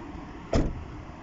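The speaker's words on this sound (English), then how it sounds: "let's open the bonnet." Bonnet of a Nissan Qashqai being opened: a single short, fairly close clunk of the release and lid, standing out briefly against a quiet background.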